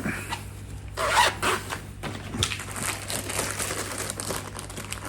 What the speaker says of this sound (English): when I do my next part, I'll make sure I undo all the zips first